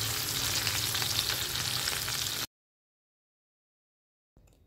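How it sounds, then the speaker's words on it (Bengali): Fish frying in mustard oil gives a steady, close, loud sizzle for about two and a half seconds before cutting to silence. A faint trace of sound returns at the very end. "মাছটা আমার ভাজা হয়ে গেছে"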